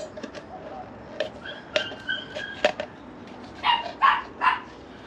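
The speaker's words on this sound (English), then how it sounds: "people next door got a new puppy." A neighbours' older dog barks in the distance outdoors in a garden setting, a scatter of sharp, spaced barks with a tighter cluster near the end, faint against background ambience.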